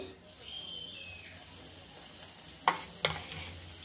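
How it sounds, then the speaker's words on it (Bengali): Vegetables frying in a little oil in a pan, a soft continuous sizzle close by with two sharp utensil knocks near the end, no talking. "আমি এটার মধ্যে ভেজে নিচ্ছি কম তেলে"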